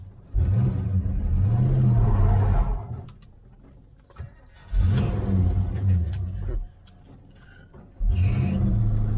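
An old 1966 Chevrolet El Camino engine, a barn find, cranks and catches in three loud bursts of rough, revving rumble, separated by quieter pauses, with a voice speaking in between.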